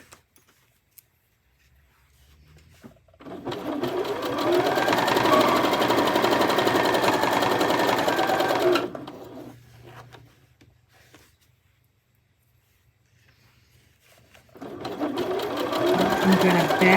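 A sewing machine stitches a fabric market bag in two bursts, a steady whirring run of about six seconds, a pause, then the motor starting again, close and loud with no voices.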